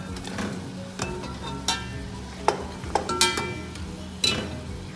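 Mutton going into onions and tomatoes frying in oil, heard as a steady sizzle with scattered clinks and scrapes of a utensil against the pan.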